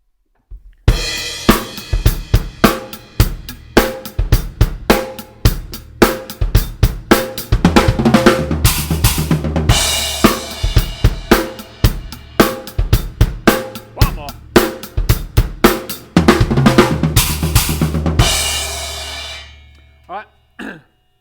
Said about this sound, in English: Now this one you can put in and play it as a 1 measure drum fill,